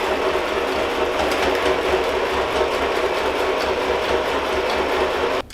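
A sewing machine stitches a long straight seam on a double-sided ecobag, running loud, close and continuous with a fast, even mechanical rhythm, then stopping abruptly at the end.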